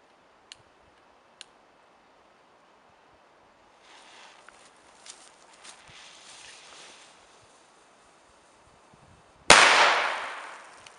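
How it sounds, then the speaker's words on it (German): A Moog Nico cylindrical caliber C cannon-shot firecracker goes off in a single sharp, very loud bang that rolls away in a long echoing tail outdoors, preceded by a couple of faint clicks and a quiet hissing fuse. "Moog Nico Kanonenschlag zylindrisch Kaliber C."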